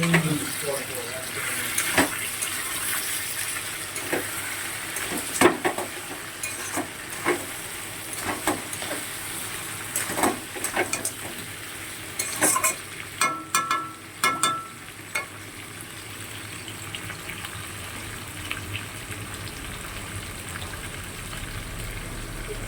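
Crab fries steadily sizzling in a pan, with intermittent scraping and clattering of a utensil stirring, close and moderately loud.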